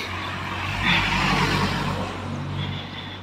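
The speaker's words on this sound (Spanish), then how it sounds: "Miren, otro carro." Car driving past on a street, a steady rushing engine and tyre noise swelling midway and easing off, fairly close with no talk over it.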